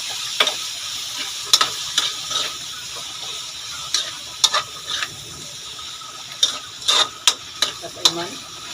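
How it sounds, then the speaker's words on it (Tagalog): Mushrooms sauté in a pan for a dry pasta dish, a soft, steady sizzle broken by intermittent clicks and scrapes of a utensil stirring against the pan. "Igisa na natin yan."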